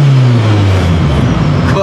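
MaxxECU-tuned car engine revving hard at full throttle, a loud close droning roar that holds steady then shifts pitch, with people talking over it.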